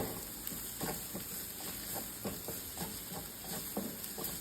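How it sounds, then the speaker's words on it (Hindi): Spices roasting in a pan over a low gas flame give a steady faint sizzle, with soft scraping stirs recurring every half second or so. "लो फ्लेम पे अच्छे से मसालों को भूनना है"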